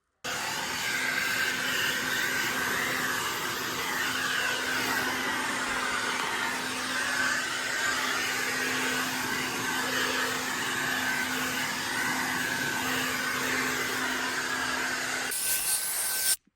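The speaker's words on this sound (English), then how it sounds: "Take this old blow dryer and just hit it to make sure it's good and dry" An old blow dryer runs continuously at close range with a steady whirring hiss over a walnut countertop being dried, cutting off abruptly near the end.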